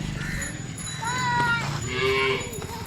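Cows low at a busy village cattle market in Chalisgaon, with drawn-out moos rising and falling over a steady crowd murmur and some faint voices.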